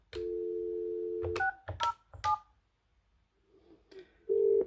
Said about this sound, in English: Pressing the conference button will put the call on hold whilst you then dial the second number.